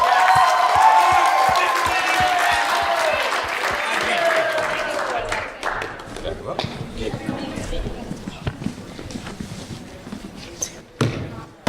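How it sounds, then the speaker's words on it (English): Uproarious applause from an improv comedy audience rises under a speaking voice, then thins into scattered, irregular claps and crowd noise. "And uproarious applause for our"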